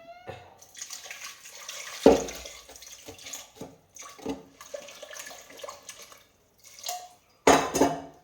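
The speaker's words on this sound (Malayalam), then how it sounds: "ഇതിന് കുറച്ച് വെള്ളം ഒഴിക്കണം." Water poured from a vessel into a pan of jackfruit with salt splashes in short bursts between metallic clanks of cookware, close up and without talk.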